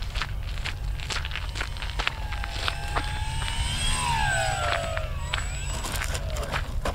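Durafly Tundra RC plane on Bigfoot wheels and tires comes in to land, its motor whining with rising and falling tones over a steady low rumble and scattered footstep-like thumps, nearby and moderately loud.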